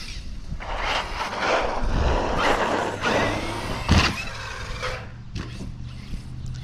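Electric 4S RC basher car drives and jumps off a small ramp, a fluctuating whine and rush of motor and tires on dirt, with a sharp thump of landing midway, moderately loud and no voices.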